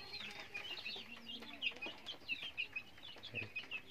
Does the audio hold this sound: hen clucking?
yes